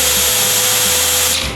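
A competitor's cordless impact driver runs continuously at close range, giving a loud, steady high-pitched motor whine with a hissing, grinding edge, plus a faint low pulsing.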